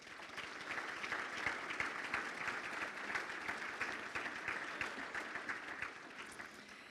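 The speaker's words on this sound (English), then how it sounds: "So if you could please give yourself a round of applause" Audience applause at the Columbus Division of Fire annual awards banquet, a steady, dense clapping from a room full of people that holds for several seconds at moderate volume.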